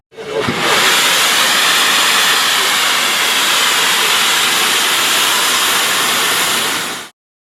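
Steam engine blowing off steam: a loud, steady rushing hiss that starts abruptly, holds evenly for about seven seconds, then cuts off sharply.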